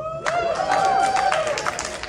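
A variety show audience at a furry convention breaks into applause and cheering, a steady dense wash of clapping with voices mixed in throughout.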